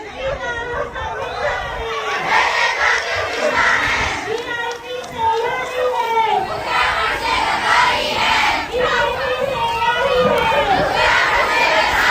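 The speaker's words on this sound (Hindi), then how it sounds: "और भीड़ देखिए, बेतहाशा भीड़ नजर आ रही है" A huge crowd filling a street in Uttarakhand, with steady loud babble and chatter from many people and occasional raised shouts, continuous and close-sounding.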